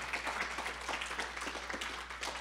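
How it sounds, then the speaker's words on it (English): Audience applause at a Martin Luther King Jr. birthday breakfast tribute, steady moderate clapping from a room of people, continuous throughout with a low hum underneath. "So let's give Dr. Wright a big round of applause."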